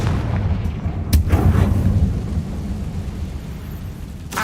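Blasting-spell explosion in the Hogwarts Legacy video game: a heavy, loud boom that cracks sharply and then rumbles and decays over a few seconds, with a second softer crack near the end.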